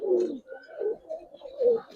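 A female Giribaz pigeon coos close by in a few soft, throaty rolling phrases, each swelling and fading over a couple of seconds.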